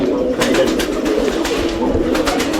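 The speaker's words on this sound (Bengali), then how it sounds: "প্রথমে আমি খাঁচাটা নিচ্ছি, খাঁচাটা নিয়ে কবুতরটা ধরবো।" Several caged pigeons cooing close by in overlapping low throaty calls, repeated throughout, with a voice talking underneath.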